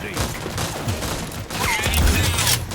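Loud bursts of gunfire in the video game Rogue Company, rapid close shots rattling over a busy mix of game effects.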